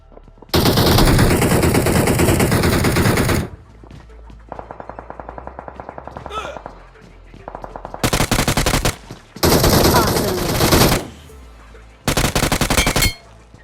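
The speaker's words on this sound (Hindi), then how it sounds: "अब उसके बाद मेरा टीममेट यहाँ नीचे पे गोली चला रहा होता है" Automatic gunfire from a teammate in the mobile game BGMI (PUBG Mobile) rattles out in several loud sustained bursts, with a quieter stretch of lighter rapid shots between them and short gaps of near silence.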